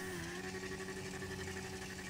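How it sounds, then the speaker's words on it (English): A car engine in GTA 5 Online revs hard and continuously as it struggles uphill, a steady mid-pitched drone with a slight vibrating buzz and no talk. "You can just hear it revving like mad."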